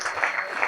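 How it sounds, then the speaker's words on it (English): Audience applause at an academy event is a brief, dense burst of steady clapping without pauses. "I want you to stand up again to give a round of applause for this man there"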